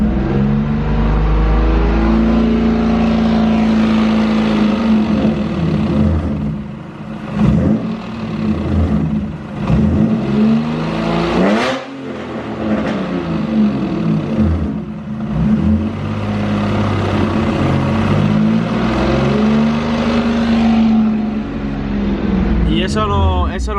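A worn clutch throw-out bearing in a BMW drift car with a stage 3 clutch, heard as a loud engine idle and revving with a whining, grinding tone that rises and falls while someone talks.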